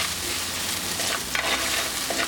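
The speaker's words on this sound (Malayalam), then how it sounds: "ഈ അരച്ചു വെച്ചിരിക്കുന്ന അരപ്പ് ഇതിലേക്ക് ചേർത്ത് വഴറ്റി കൊടുക്കാം" Ground spice paste with curry leaves sizzling and frying in a hot pan for a Kerala fish dish, a steady crackling hiss with soft scraping from stirring, close and continuous.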